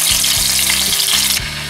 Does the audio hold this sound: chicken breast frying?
yes